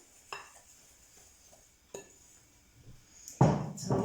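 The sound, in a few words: stirring oats and dry ingredients into syrupy Anzac biscuit mixture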